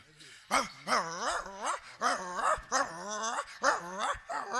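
A human voice imitates a dog barking, producing about eight rhythmic, drawn-out barks and yelps in quick succession, loud and close with brief pauses between them.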